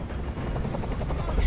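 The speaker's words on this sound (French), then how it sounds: "je peux plus supporter ce bruit. Fais dégager cet hélicoptère, maintenant." Loud, steady helicopter rotor thrum from the video game Detroit: Become Human fills the scene without a break, a dense close chop with no voices over it.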